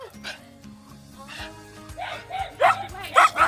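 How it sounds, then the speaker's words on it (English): A dog gives several short, yappy barks and whimpering yips that rise in loudness toward the end, mixed with nearby voices talking. "It's crazy dog."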